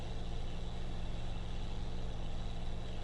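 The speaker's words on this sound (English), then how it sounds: "And the engine sound good on them." International truck engine running steadily at idle, a continuous low rumble and drone holding even throughout with no voices.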